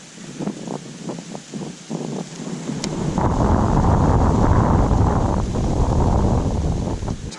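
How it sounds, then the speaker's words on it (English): Strong wind buffets the microphone while bass fishing from a boat on a lake in early winter with 40-degree water, starting with gusty bursts and then swelling into a steady, heavy roar. "This wind is a bear."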